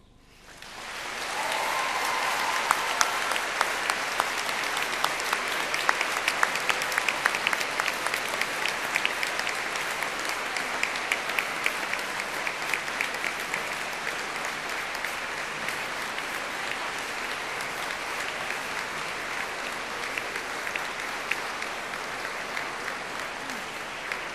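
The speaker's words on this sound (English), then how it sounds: "giving them an enthusiastic round of applause" Large audience at a Cardiff University graduation ceremony breaks into sustained, enthusiastic applause that swells quickly and holds steady as a dense wash of clapping from the hall.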